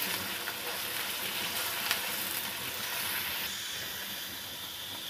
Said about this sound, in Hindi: अब मैं डालूंगी इसमें कुटा हुआ अदरक और लहसुन, इसे चंद सेकंड के लिए प्याज के साथ इसे भून लेंगे